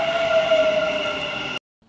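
Inside a Dubai Metro train on the move: a steady, loud rumble with a sustained whining tone runs without a break, then cuts off abruptly near the end. No one speaks.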